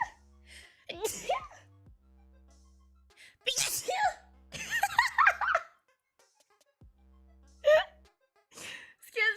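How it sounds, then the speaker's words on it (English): A person sneezes abruptly between bouts of talking, with a gasp and some light laughter nearby; a low hum runs underneath. "I really needed to sneeze."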